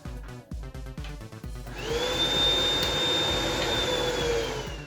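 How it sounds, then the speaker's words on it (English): A Tefal TY9152WO cordless vacuum cleaner starts after a few clicks and handling knocks, then runs with a steady high whine and airy rush, loud and close. "As you can see, the vacuum cleaner works"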